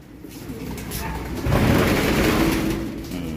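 Racing pigeons coo during a training session in Candelaria, Quezon, soft repeated cooing over a steady outdoor hum of wind or engine noise, with a voice talking faintly.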